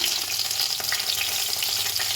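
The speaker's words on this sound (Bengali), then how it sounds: "একটু বেগুন ভাজা করতেই হবে, বেগুন ভাজা আমি" Eggplant slices frying in oil in a home kitchen pan, giving a steady, dense hiss of sizzling with no talk over it.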